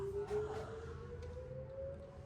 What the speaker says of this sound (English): it's noon on Wednesday. The sirens are going.